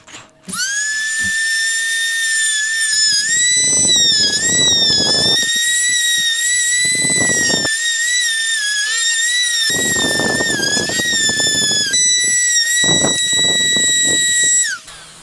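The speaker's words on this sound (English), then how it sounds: "Make sure if you use your Dremel, you have safety glasses on." A Dremel rotary tool trims e-bike fenders outdoors with a loud, high-pitched whine that holds steady for about fourteen seconds. Its pitch dips briefly as it bites into the plastic, and bursts of grinding and scraping cut in repeatedly.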